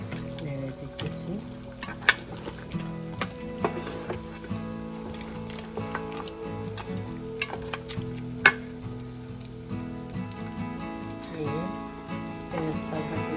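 Beef curry meat for fifty people fries in a large pot, a continuous sizzle broken by scattered clinks and scrapes as it is stirred, with low music or background hum underneath.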